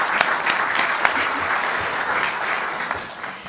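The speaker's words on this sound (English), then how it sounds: "Let's give them a round of applause." Applause from a council meeting audience fills the room, a steady wash of many hands clapping with a few sharper claps standing out, fairly close and continuous, with no talking over it.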